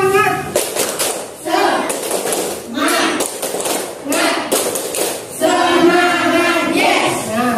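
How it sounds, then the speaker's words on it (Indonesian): A primary school class claps the tepuk semangat cheer in loud, patterned rhythmic bursts of hand claps and thumps, with children's voices chanting along near the end. "Ya, tepuk semangat."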